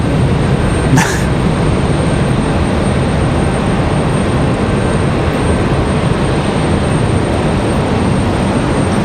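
An Airbus A319 airliner at Raleigh Durham airport gives a loud, unbroken roar during stormy weather, with one brief sharp sound near the start.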